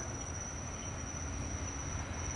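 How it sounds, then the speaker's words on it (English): Constant rumbling roar of a train rolling past, with a thin high-pitched whine of wheels held steadily over the noise. "Here comes the train."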